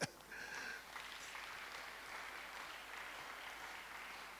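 Church congregation applauding during an Easter Sunday sermon, a faint, distant wash of clapping that starts suddenly and holds steady for a few seconds.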